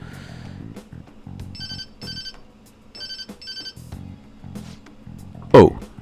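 An incoming-call ringtone from Persona 5 Royal repeats in a short melodic pattern of electronic chirps, sounding in pairs between stretches of game music, and ends with a sharp louder chime.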